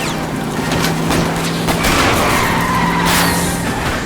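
A car skidding during a chase in the video game LA Noire, with loud, continuous tire squeal and engine roar mixed with bursts of rapid gunfire throughout.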